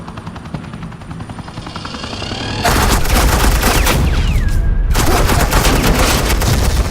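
Agent Quinn lays down suppressing fire in Batman The Enemy Within, a sudden dense burst of rapid automatic gunfire over a droning helicopter-like rumble, continuous and loud with a brief gap near the end.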